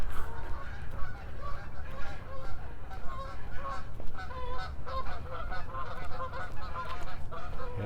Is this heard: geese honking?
yes